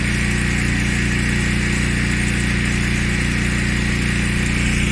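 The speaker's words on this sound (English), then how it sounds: "Tub is spinning. Yoo-hoo! Wow, nice solid spin." A repaired washing machine tub spins steadily with a strong, constant mechanical hum and whir, loud and unbroken throughout, with no talk over it.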